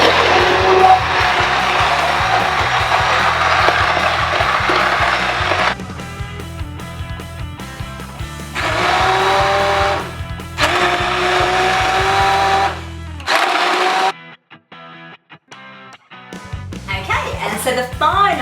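A blender pulverises soup ingredients into a pulp, roaring loud and steady in long bursts with brief pauses and pitch shifts as the load changes, while a person talks over it.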